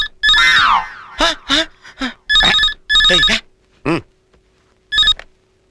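A telephone rings loudly in repeated bursts of bright electronic chirps, spaced irregularly, with short silences between them.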